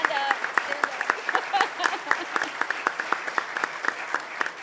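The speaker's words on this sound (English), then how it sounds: "Can we get a round of applause, please, for our national anthem singer, Miss Leah Rose Fisher, and stand up." An audience claps for a national anthem singer at a public meeting, a fairly faint, steady patter of many hands with no talking over it.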